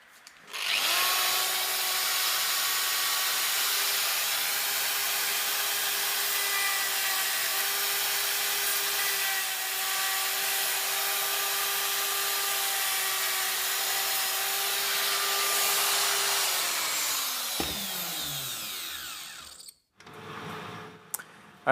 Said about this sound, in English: I'm using a wire brush to deburr the teeth